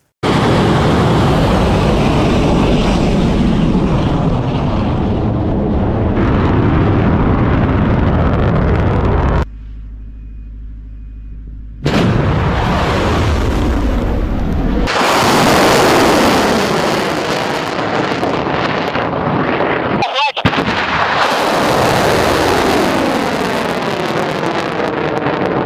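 An Iranian Sejjil solid-fuel missile launching, a loud roaring rush with wind buffeting, broken by a short near-silent gap and then a harsh renewed roar with crackling, all continuous and without voices.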